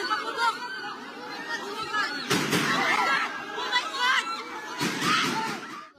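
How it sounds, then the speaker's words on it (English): Gunshots ring out inside the Philippines Senate building, with two loud, sharp bursts a few seconds apart over a background of crowd chatter and commotion. "Video captured the moment gunshots were heard multiple times inside the Philippines Senate building."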